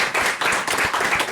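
An audience at a music interview event claps briefly, a quick patter of individual claps with a faint rhythmic beat underneath, fairly close and short.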